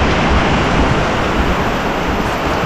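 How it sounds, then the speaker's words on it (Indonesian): Dense, steady hiss of heavy rain pouring down, a loud broadband wash with no pauses. "Hujan lebat."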